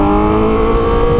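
Honda Fireblade superbike with an SC Project exhaust, its engine holding a loud, steady high rev right up close with a rich harmonic tone, no voices over it.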